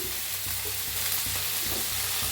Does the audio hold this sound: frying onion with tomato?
yes